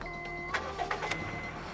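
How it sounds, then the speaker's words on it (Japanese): A Honda Freed Spike's engine turns over and catches, then settles into a steady idle. The sound is close and moderately loud, with a few short mechanical clicks and bursts over the running hum. "これちょっと一回エンジンかけるんですけど"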